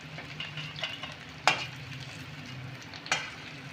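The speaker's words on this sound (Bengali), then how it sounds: "ওই তেলেতে ফোড়নে দেব একটা তেজপাতা, শুকনো লঙ্কা, গোটা গরম মশলা।" Whole spices, a bay leaf and dried chilli sizzle in hot oil left from frying capsicum and onion, a steady close crackling fry with two sharp spitting pops standing out, no voices.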